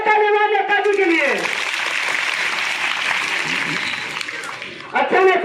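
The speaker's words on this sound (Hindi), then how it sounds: "जोरदार तालियां नेताजी के लिए।" Audience clapping at a school annual function stage event in India, a sustained burst of applause following a speaking voice, fading slightly before another voice cuts back in at the end.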